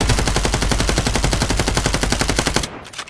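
Rapid automatic gunfire in FragPunk after a reload cancel: a loud, fast, evenly spaced stream of shots that runs for about two and a half seconds, then cuts off abruptly and leaves faint trailing noise.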